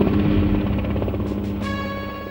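A military helicopter flies past with steady loud rotor thump and engine drone in an archival war documentary about Algeria, no talk over it.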